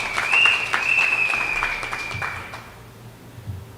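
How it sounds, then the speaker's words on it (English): An audience gives a round of applause to the evening's host, Mrs. Pamela Mahabir, at a venue event. The clapping is scattered and moderately distant under a sustained high tone and fades out after a few seconds. "Give her a round of applause."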